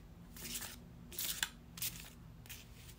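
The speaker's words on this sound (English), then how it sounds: "let's shuffle our last deck for this reading" Tarot cards being shuffled by hand in short bursts, soft papery riffles and rustles close up, separated by quiet gaps, with no talking.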